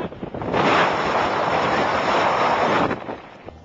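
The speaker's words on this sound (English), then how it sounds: "the wind is blowing Like a million miles an hour" Strong wind roaring over the microphone in an Arizona canyon, a loud sustained buffeting rush that swells in after half a second, holds steady for over two seconds, then drops away.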